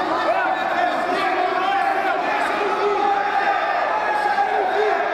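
A dense, steady roar from the crowd at a Batalha MMA 8 mixed martial arts fight fills the whole stretch, with a commentator talking over it throughout.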